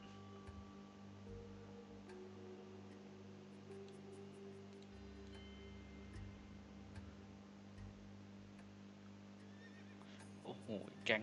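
In the Ragnarok Online video game, black horse monsters neigh and whinny as hooves clip-clop in quick ticking steps over a low, steady game background, with a louder burst near the end.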